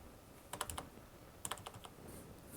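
Keys on a small Logitech computer keyboard clatter in two short bursts of quick taps, close and quiet in an otherwise still room.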